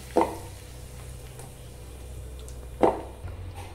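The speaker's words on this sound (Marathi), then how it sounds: "हा तयार झालेला तडका या चटणीवर टाकून घ्यायचा" Hot tempering poured over fresh coconut chutney and stirred in: two short sharp splatting bursts about two and a half seconds apart, with quiet scraping and mixing noises between them.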